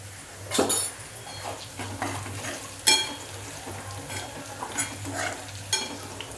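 Chickpea leaf greens are stir-fried in a pan with garlic and chili, a low steady sizzle under repeated metal spoon scrapes and clinks against the pan, close and moderately quiet, with no talking.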